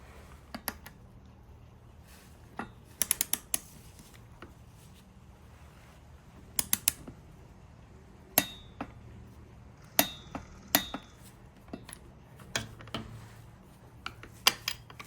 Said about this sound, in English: Okay, so I got my torque wrench here, and I'm going to get this